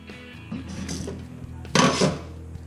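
A metal spoon scrapes the flesh out of an avocado in a kitchen while lime fish ceviche is made, giving a few soft close scrapes and one louder, longer grating stroke near the end, with no talking.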